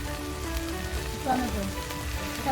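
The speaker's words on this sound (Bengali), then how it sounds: "একসাথে দিয়ে মশলাটা ভালো করে কষে নেব ভেজে মশলার তেল ছেড়ে দিচ্ছি" Spice paste frying in hot oil in a home kitchen, giving a steady soft sizzle with faint crackle throughout, under a low background hum and some quiet tonal noise.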